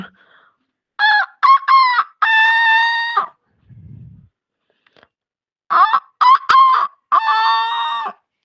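A rooster crows loudly twice, each crow a few short notes ending in a long drawn-out call, with a brief low cluck between them.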